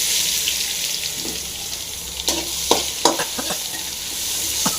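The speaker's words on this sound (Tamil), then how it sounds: "இந்த பூண்டு போட்டு நல்லா வந்து ஃப்ரை ஆகட்டும்" Garlic fries with cumin in hot oil, giving a continuous bright hiss and crackle with a handful of sharp spoon-and-pan knocks toward the end, close up and with no voices.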